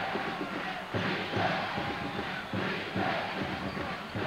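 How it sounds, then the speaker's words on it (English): An arena crowd at a college basketball game between Kansas and Memphis roars and chants in rhythmic surges, urging the Tigers to play defense, a loud continuous mass of voices. "This crowd urging the Tigers to play defense."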